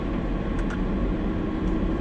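A 2019 Porsche Macan pulls away on the Genting road, a steady, loud low engine and road drone close inside the cabin with no pauses or talking.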